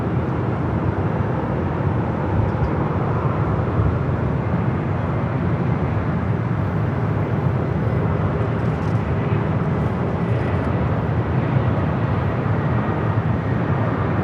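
A United Airlines A320 arriving at LAX from Sacramento makes a loud, sustained broadband engine roar that stays dense and steady throughout, with no voices.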